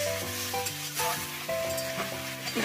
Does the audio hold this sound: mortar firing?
no